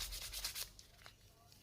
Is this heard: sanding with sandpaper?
yes